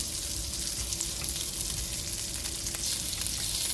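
A hotdog fries in a pan for breakfast, giving a steady, even sizzle with faint crackles up close and a slight swell near the end, with no speech.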